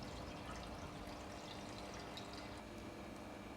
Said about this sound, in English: So just fill it up with water and we'll see where it all pours out